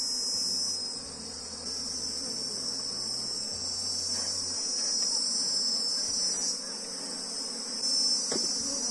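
Apis honey bees buzzing in a hive box, a dense, steady high-pitched drone of many insects throughout, with faint low hum and handling noises beneath.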